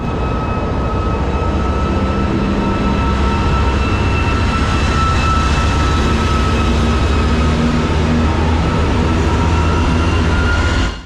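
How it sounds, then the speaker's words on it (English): A loud, rumbling diesel engine of a two-section 2TE11 freight locomotive drones steadily nearby, with deep throbbing tones and a constant mechanical roar. "Huge 2-part 2TE11 freight loco has arrived, making lots of noise and puffing out so much smoke."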